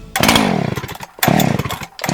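A chainsaw engine revving in a radio advertisement for starting trouble with trimmers, chainsaws and leaf blowers, two loud buzzing bursts with rising and falling pitch separated by a brief dip.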